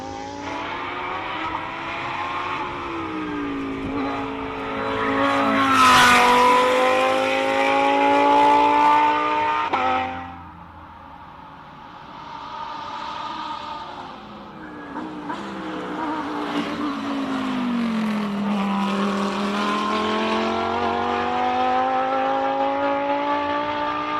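A pink Lamborghini races uphill at the Simola Hillclimb, its engine loud and close, rising through the gears with sharp shifts and a brief dip before climbing again over about twenty seconds, with no talking.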